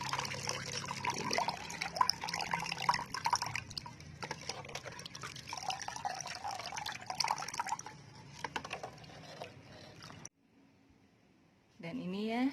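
Water poured over succulents and small indoor cacti, a liquid trickle and dripping that runs steadily under ambient sound for about ten seconds, then stops briefly before noise returns.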